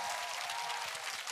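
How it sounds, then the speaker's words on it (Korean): Audience applause at a live music show, a steady dense wash of clapping from a close crowd with no voices over it. "큰 박수 다시 한번 부탁드립니다."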